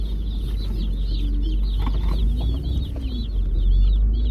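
Many Cornish Cross chicks cheep in rapid, overlapping high peeps, continuous and close, over a low steady background hum.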